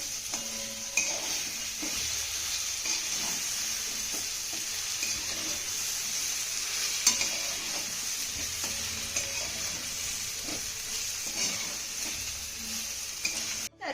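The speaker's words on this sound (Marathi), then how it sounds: "त्यानंतर ही वांगी आपल्याला एक ते दोन मिनिटं ह्या फोडणीमध्ये चांगली परतून घ्यायची आहे" Brinjal pieces are sautéed in an oil tempering, giving a soft, steady sizzle with intermittent spatula scrapes and light clicks, heard up close without talk for about fourteen seconds.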